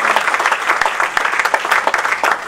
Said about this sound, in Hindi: एक बार जोरदार तालियां बजाकर बता रहे हैं।